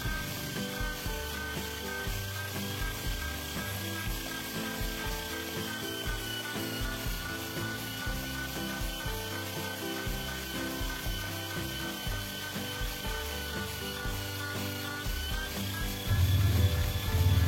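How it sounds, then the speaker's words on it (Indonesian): An electric mixer blends fermented cassava (tape singkong), giving a steady, unbroken motor whine with gritty churning underneath that runs throughout and grows louder in the last second. "Kita mixer dulu tape singkongnya."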